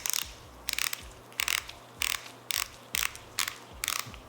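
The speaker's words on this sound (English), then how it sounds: "this is what the machine looks like when we remove the grip" Grip being worked off a Mummy Anubis tattoo machine: a regular series of close, crisp ratcheting clicks, about eight evenly spaced bursts, with no talk.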